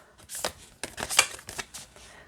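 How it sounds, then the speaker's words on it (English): Oracle cards from a matte-finish deck being shuffled by hand, a series of quick riffling bursts with short pauses between them, close and fairly quiet with no voices. "Shuffles great this way as well."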